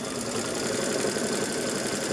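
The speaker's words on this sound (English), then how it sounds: "So that's stitching the seam." A sewing machine stitches a seam in printed cotton fabric, a steady, rapid mechanical whirr with a fast even knocking pulse running throughout, close and unbroken.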